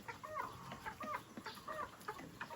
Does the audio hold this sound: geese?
yes